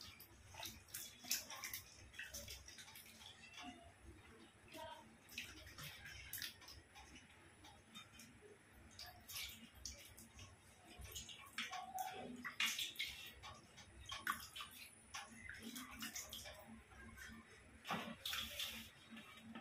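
Bitter gourd being rinsed in water at a home kitchen, with soft, irregular splashing and faint clicks and drips that run through the whole stretch at low volume.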